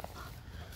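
A puppy dog whimpers in a short, faint burst over a steady low background hum, with no clear talk.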